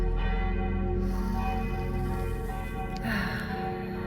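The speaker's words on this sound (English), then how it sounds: "The bells just keep on going, just swing with it." Church bells ring on and on in a sustained, resonant wash of overlapping tones, steady and fairly loud outdoors, with no talking.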